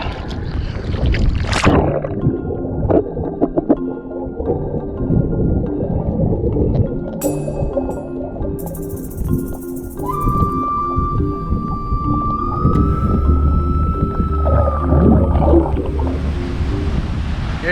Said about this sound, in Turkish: burası şu anda bayağı rüzgarlı